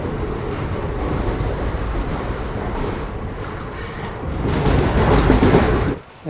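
An express train bound for Thiruvananthapuram Central rolls out of Vadakkanchery station in a steady, loud rumble of wheels and carriage noise, building to a heavier roar near the end before cutting off.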